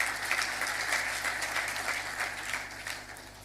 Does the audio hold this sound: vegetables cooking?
no